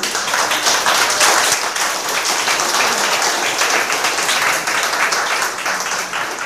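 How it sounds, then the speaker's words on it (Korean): Sustained applause from the audience at a political lecture in Korea, many hands clapping in a thick, continuous roar that holds steady and fairly loud throughout. "박수를."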